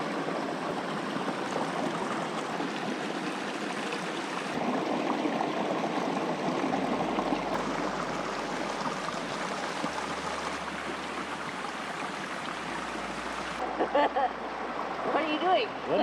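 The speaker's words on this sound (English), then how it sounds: "This would be Trout Lake Creek here next to the campground. Beautiful little creek." Trout Lake Creek running beside a backcountry campground in Washington, a continuous soft rush and trickle of flowing water heard close by, with a low hum underneath and brief knocks near the end.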